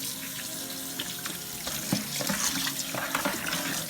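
Tap water runs steadily into a kitchen sink to rinse a raw whole chicken that has been cut up and cleaned, a close, continuous splashing stream with no talk.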